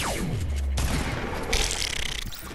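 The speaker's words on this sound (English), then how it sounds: "He shot a rocket." A rocket launcher fired in a video game, a falling whoosh followed by booming rumble and a crackling blast, loud and continuous with no speech.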